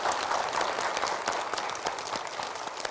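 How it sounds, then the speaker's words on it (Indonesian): Audience applause at an Indonesian religious talk show, a fairly dense patter of many hands clapping at a steady, moderate level for a few seconds with no talking over it. "kita kasih tepuk tangan untuk Mbak Christine"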